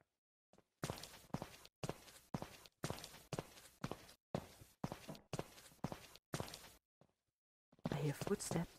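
Footsteps in the stealth game Sneak Thief: a steady run of about a dozen heavy, evenly spaced steps, close and fairly loud, then a short pause before a burst of louder sound at the end.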